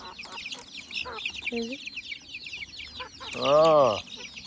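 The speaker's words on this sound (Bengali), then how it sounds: "দেখেন এগুলো হচ্ছে গ্রামের অরিজিনাল মুরগি।" Village native chickens cluck in short bursts nearby, with one louder drawn-out call near the end, over light background noise.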